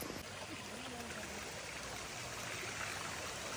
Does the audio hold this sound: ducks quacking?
no